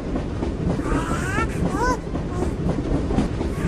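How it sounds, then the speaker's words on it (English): A small toy train rattles along with a steady clickety-clack, accompanied by a few brief high whistle-like tones in the middle. "Choo-choo! The little train gets moving."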